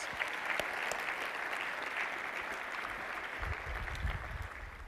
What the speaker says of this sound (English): Joan Becker, give her a round of applause.